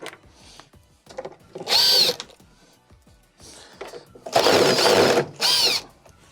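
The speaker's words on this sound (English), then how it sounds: "They're all T20 Torx screws. So start on one side and start to remove them." A power screwdriver backs T20 Torx screws out of a Frigidaire dishwasher panel in several short, loud whirring bursts, separated by quieter handling clicks and rattles.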